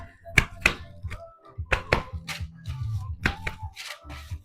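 Hands clap cooked, soft paratha roti (buss up shut) to break apart its flaky layers, giving a string of close, sharp, irregular slaps and soft thuds, with a faint voice murmuring between them.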